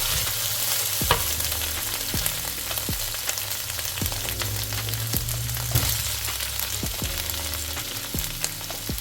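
Brown onion, red onion, garlic and ginger sizzle steadily in a hot pan for a pork stir fry, close and continuous, with repeated scraping clicks of a utensil stirring the pieces.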